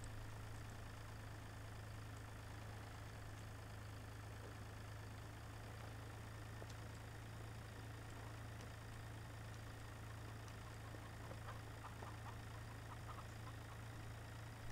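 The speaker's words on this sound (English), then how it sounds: "Then again, it's a tiny tractor." A small tractor in Farming Simulator 2013 idles in a steady, unbroken low hum that stays even and moderately quiet throughout, with no talk over it.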